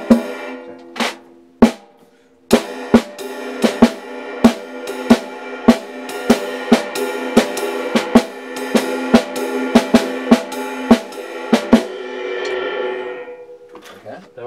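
Drums play a steady swing comping pattern of sharp hits roughly every half second, with ringing cymbal wash building toward the end before cutting off.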